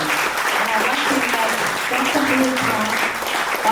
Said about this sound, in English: Please give a round of applause to Chloe Bryan.